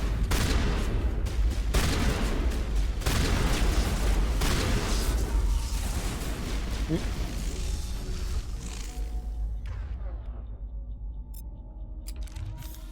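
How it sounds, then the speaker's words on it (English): Shotgun blasts and surrounding gunfire in the video game Mass Effect 1, a loud dense barrage of repeated booming shots for about ten seconds that then drops to a quieter tail, with no talk. "Here's where the shotgun shines."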